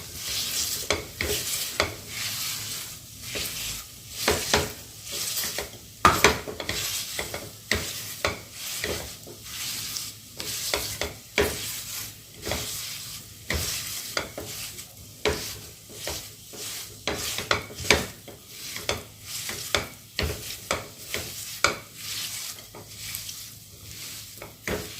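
A spoon scrapes and rattles steadily through dry-roasting laddu ingredients, such as makhana and flaxseed, in a hot pan, with a faint sizzle under the repeated close stirring strokes.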